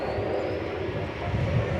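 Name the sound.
airplane taking off at DFW Airport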